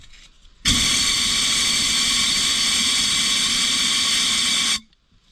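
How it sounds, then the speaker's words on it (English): A strong, steady hiss of compressed air blown down an injector hole of an abandoned Case 580CK backhoe engine, starting abruptly, running about four seconds at constant loudness, then cutting off. "I'm gonna shoot compressed air down while the cylinder, or down the injector hole"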